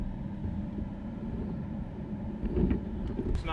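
A Honda CT70 minibike engine runs with a steady low rumble, idling a little rough and not running well, with a few brief mechanical clicks toward the end.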